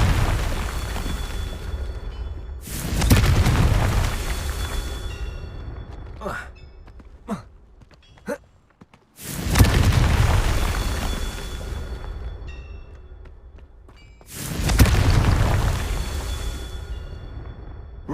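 Confringo fire spell blasts from the game Hogwarts Legacy, three heavy booming explosions spaced several seconds apart, each a loud low roar that swells and fades, with a few sharp clicks and pops between them.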